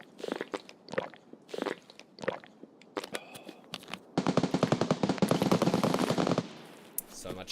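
Rapid bursts of gunfire fill a video game boss fight, dense automatic volleys rattling loudly after scattered earlier shots, with no speech over them.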